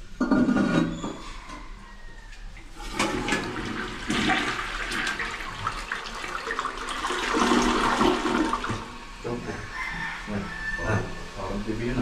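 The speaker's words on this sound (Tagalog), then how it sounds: "Ito flush." A household toilet flushes in a newly cleaned bathroom, a long rushing gurgle of water with a rooster crowing and clucking faintly in the background.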